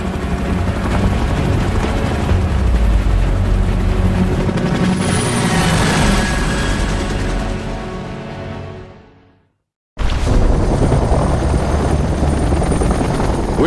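Helicopter in the Xbox 360 game Gears of War: Judgment, a loud steady rotor roar with engine whine that fades out, breaks into a moment of silence, then cuts back in at full strength.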